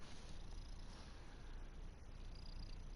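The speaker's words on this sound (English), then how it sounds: "That was my cat." A pet cat purrs softly and continuously at close range at night, a faint, even rumbling texture with no other sounds.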